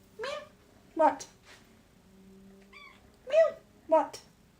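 A cat meows several short times, with pauses between the cries, fairly close and clear against a quiet room, while a person talks in between.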